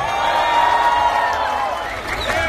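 A large crowd at a Lokomotiv Moscow Russian Premier League title celebration cheers and applauds steadily, a dense, continuous roar of voices with brief whoops rising near the end.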